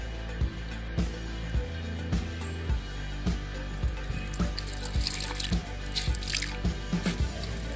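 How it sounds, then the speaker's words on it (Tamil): Water drips and splashes in a sink as a cloth diaper is rinsed by hand, with repeated short wet slaps and trickles at a steady rhythm, close and moderately loud throughout. "இந்த மாதிரி நல்லா வாஷ் பண்ணி நல்லா ரின்ஸ் பண்ணி எடுத்துக்கோங்க."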